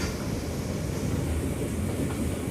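A slow Bangladeshi local train on the Rangpur to Chilmari line rolls along its rails with a steady, close rumble and dense low-end clatter that carries through without a break.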